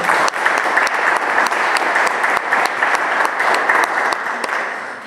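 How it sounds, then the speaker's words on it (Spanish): Audience at a Mexican panel session applauding a speaker, steady dense clapping from many hands that holds at an even level for several seconds with no voices over it. "Damos un aplauso al maestro Óscar."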